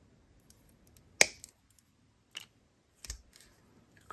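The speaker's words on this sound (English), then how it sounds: "Let me cut off the excess." Scissors or wire cutters snip off excess beading wire while making a colorful beaded necklace: one sharp, close click near the middle, with a few softer clicks and handling noises around it and no talk.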